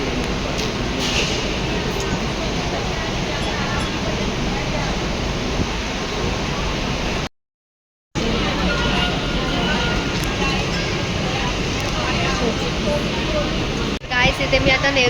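Window-seat ride aboard a moving suburban commuter train bound toward Belapur, with steady loud rumble and rushing wheel noise throughout, a brief dropout midway, and some voices in the carriage.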